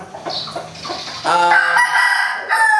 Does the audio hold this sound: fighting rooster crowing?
yes